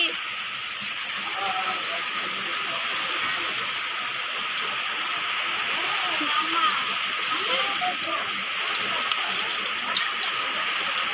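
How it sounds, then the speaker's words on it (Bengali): Heavy rain pours steadily with a dense, constant hiss and splashing of water, heard closely and evenly for the whole stretch, with faint voices now and then in the background. "আসো আসো দেখে যাও কত বৃষ্টি"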